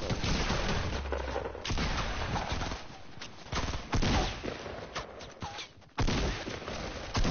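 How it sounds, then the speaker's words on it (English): Hunting rifle shots in a video game, a series of loud, sharp reports separated by brief gaps, with heavy booming blasts and overlapping gunfire filling the background. "First gun is a hunting rifle."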